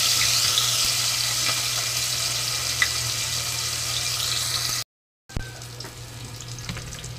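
Tomato and onion dropped into hot oil with garlic for misua soup sizzle and crackle in a steady, close hiss, briefly cut off, then frying on with a few small pops.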